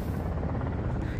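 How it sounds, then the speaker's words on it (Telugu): A low, throbbing helicopter rotor drone fills the clip, steady and fairly close, with a faint voice underneath, in the Himalayan mountains. "హెలికాప్టర్లు కూడా జోరు మీద వస్తున్నాయి ఎదురెదురుగా"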